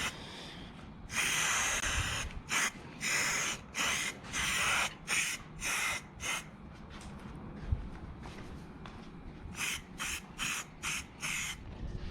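Plastidip sprayed from a can in short tack-coat bursts onto the chrome trim of a Ram 1500 truck, a series of close hissing spray pulses of varying length separated by brief pauses, no speech.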